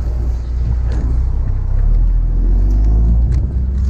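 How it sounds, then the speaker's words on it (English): Cars on a city street at night, a heavy low rumble of engines and passing traffic, loud and close throughout, with faint voices in the background. "So there aren't that many cars"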